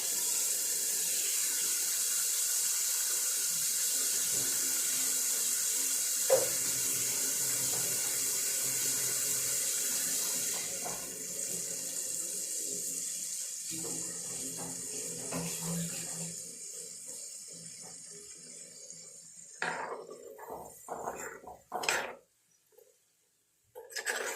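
Water pours steadily from a kitchen tap into a sink during fish curry preparation, a continuous hiss for about ten seconds that then softens into gentler splashing, followed by scattered clinks and handling sounds.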